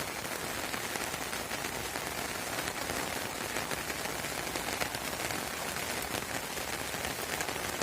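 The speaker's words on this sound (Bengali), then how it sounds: "বৃষ্টির মধ্যে ভেজা এলাকা দেখানোর জন্য" Heavy rain pours over a wet village, an even, unbroken hiss of drops striking surfaces close by, steady in loudness from start to finish with no voices.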